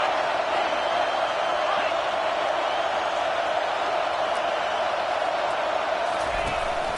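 A stadium crowd at an American football game roars on third down, a steady wide wash of cheering and noise sustained at a constant level throughout, with a commentator's voice running over it.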